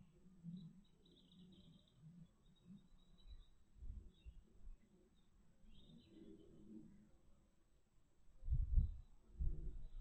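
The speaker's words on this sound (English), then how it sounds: "Can't hear a great deal, only birds twittering." Faint, high bird twittering drifts in now and then at a distance in a quiet outdoor setting, alongside low soft coos and a few louder close thumps or rustles near the end.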